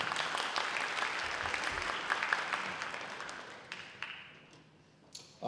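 An audience applauds at a spring band concert, with dense clapping that fills the room and then thins out into scattered claps and fades toward the end.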